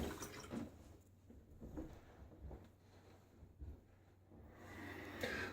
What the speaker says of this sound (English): A little splash of water on my face here.